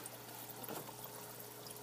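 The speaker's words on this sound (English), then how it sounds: "hopefully we'll see some water spurting out" Water from an aquaponics pump trickling and pouring into a grow bed, a steady, hissing stream that fills the whole clip evenly without pauses, close by and with no talking.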